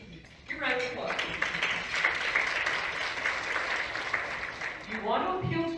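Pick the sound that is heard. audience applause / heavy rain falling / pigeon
audience applause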